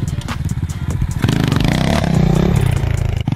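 A cheap full-size dirt bike with a rattling kickstand revs loudly and close by: choppy idle pulses first, then a sustained rising roar with a brief dip near the end, with no talking.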